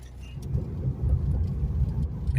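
Car with worn old rear tires rumbling while driving, a continuous low, throbbing drone with a pulsing roughness, heard from inside the cabin.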